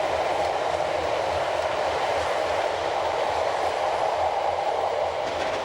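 A Swiss Glacier Express train hauled by a modern GE45 locomotive climbs a narrow mountain line with a steady, loud rolling rumble and continuous wheel and carriage noise, close by and unbroken, with no voices.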